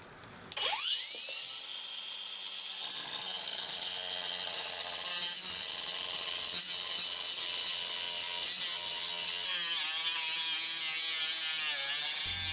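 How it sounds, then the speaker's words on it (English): A loud, continuous high-pitched grinding whine from an angle grinder roughing the edges of slate, steady throughout with slight shifts in pitch as it bites. "So I just turned my angle grinder on its side and tried to replicate the effect I wanted."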